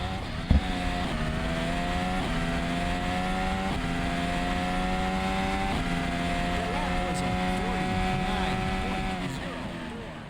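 Ferrari 499P hybrid race car in a racing simulator game, its engine holding a steady loud drone through about ten seconds with a few gear-shift steps in pitch, a short tonal whine appearing late on.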